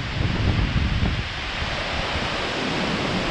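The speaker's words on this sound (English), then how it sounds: "A little windy up here in the gorge." Wind blows steadily in the Columbia River Gorge, a broad roaring rush that gusts louder early on and then settles into a constant blustery noise close to the microphone.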